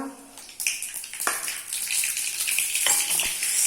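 Mustard seeds, cumin and fennel hitting hot oil in a pan while making chole bhature, a bright sizzle that jumps up sharply and keeps crackling steadily, close and fairly quiet.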